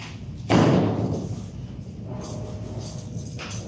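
Boat fender on the water thumping against a hull with one heavy, deep thud, followed by a lower rumbling rub and faint creaks.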